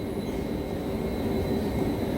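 A Donghae Line passenger train runs along the track, heard as a continuous low rumble and rattle from inside the carriage, steady and moderately loud with no talking.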